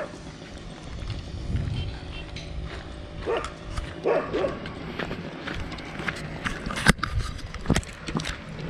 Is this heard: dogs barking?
yes